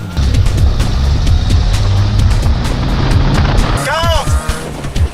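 A Renault 4L GTL in first gear pulls away at a rally start, its engine droning loud and close, with a raised voice shouting over the noise and a rising whine near the end.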